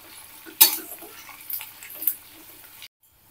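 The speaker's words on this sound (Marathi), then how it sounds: "तर कांदा पण चांगला भाजून घेऊयात।" Onion sautéed in a pan for a mushroom sabji: a few quiet utensil scrapes and clinks against the pan over a faint sizzle, lasting under three seconds before cutting to silence.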